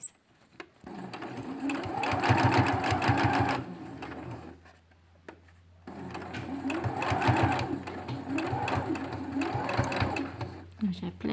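A sewing machine stitches a fabric face mask in two steady running bursts split by a short pause, close and clear, with someone speaking French alongside.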